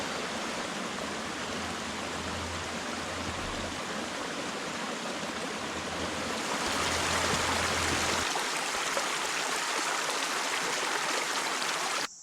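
Creek water flowing at a trail crossing on a Virginia backpacking route, a steady rushing babble close by that swells a little louder partway through, with no voices.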